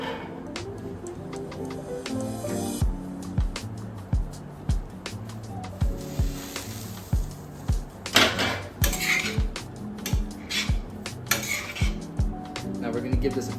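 Cacio e pepe pasta is tossed in a pan, with rhythmic metallic clanks and knocks of the pan repeating every second or so over a soft sizzle, close and fairly loud.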